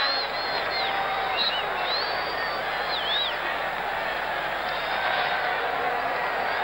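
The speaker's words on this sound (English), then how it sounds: "Well, that's cheered up the crowd in Philadelphia." A large stadium crowd at a football match in Philadelphia cheers and roars in a dense, sustained wash, with whistles rising above it.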